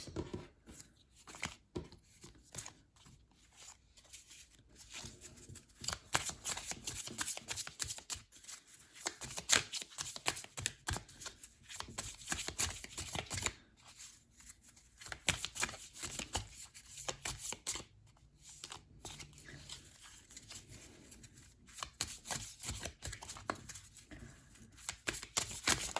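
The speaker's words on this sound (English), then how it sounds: "I will keep shuffling" Tarot cards shuffled by hand in a long, steady run of crisp riffling and slapping bursts, close and fairly quiet, with brief pauses between shuffles and no talking.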